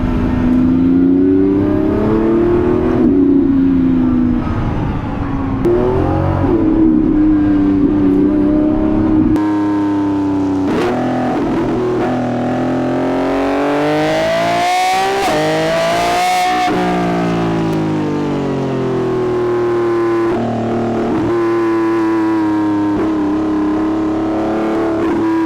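A Lamborghini Revuelto driven hard on the Tail of the Dragon mountain road, its engine droning loud and close, the pitch rising and falling as it shifts and revs through the bends, with no talking.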